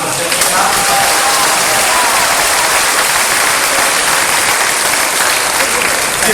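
An audience at a live poetry show in Siliguri applauds, a dense, loud, sustained clapping that fills the whole stretch with no pause.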